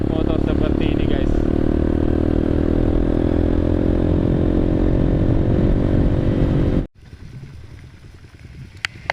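A motorcycle riding on a mountain road between Tarutung and Sibolga, with a loud steady engine drone and wind rush that cuts off abruptly, leaving quieter rumbling and faint clatter.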